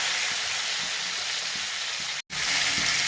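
Pieces of elephant foot yam fry in oil for a prawn curry, a loud unbroken sizzle that briefly cuts out for a moment before resuming just as strong.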